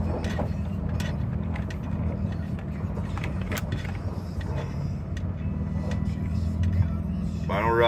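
A Mitsubishi car on its final ride rolls down a driveway toward the road, giving a steady low engine and road rumble from inside the cabin with occasional small rattles and clunks.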